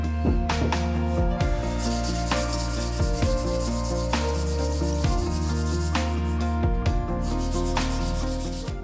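The rosewood fence of a Stanley No. 45 plane is scrubbed clean during restoration, a steady, close, harsh rubbing and scouring that continues without pause, with faint rhythmic strokes in the texture.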